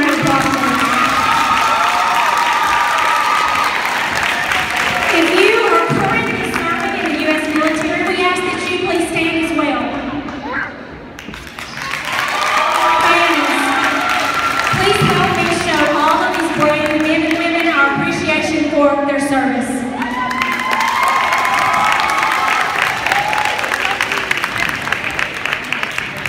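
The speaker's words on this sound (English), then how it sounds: "Let's give him a round of applause." A gathered crowd bursts into clapping and cheering for a returning service member, loud and sustained, with excited shouts and voices riding over the applause, briefly dipping midway before surging again.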